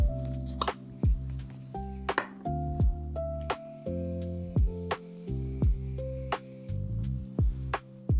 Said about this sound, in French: Je termine avec le spray fixateur. Donc lui c'est le Micro Dot Setting Spray.